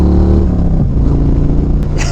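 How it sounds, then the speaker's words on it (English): A 2014 Harley-Davidson Dyna Switchback with an aftermarket Bassani 2-in-1 exhaust revs up close and loud, a deep rumbling V-twin note rising and falling with the throttle. "So if you can hear, this is not a stock Harley exhaust."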